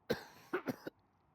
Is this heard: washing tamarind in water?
no